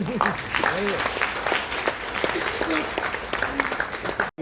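An audience at an Indian Coast Guard vessel commissioning ceremony in Goa applauds steadily with dense clapping, while a voice speaks briefly over it.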